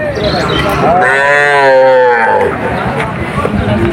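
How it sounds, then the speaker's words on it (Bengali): A Sahiwal calf gives one long, loud moo up close at a busy cattle market, with crowd chatter and voices around it. "দারুণ বাছুর শাহিওয়াল জাতের"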